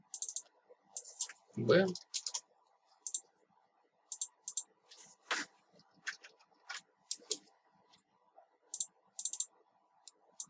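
Computer keyboard keys clicking in short, irregular bursts while drafting a house plan in AutoCAD, close and fairly quiet, with a brief spoken syllable near the start.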